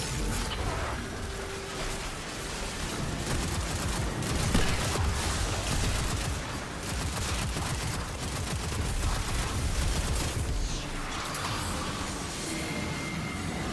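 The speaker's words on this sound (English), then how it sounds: "I need to just maybe keep this machine gun out." Rapid automatic gunfire from a machine gun during a Destiny 2 solo run of the Warlord's Ruin dungeon, a dense continuous barrage of shots loud and steady throughout, mixed with other game noise.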